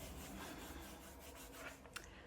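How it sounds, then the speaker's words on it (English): Light sanding on a wooden journal cover, a soft continuous rubbing rasp close by and faint, with gentle back-and-forth strokes and one small knock near the end; nobody talks. "I'm just going to give this a light sand so that I give it a little bit of tooth for this to glue on."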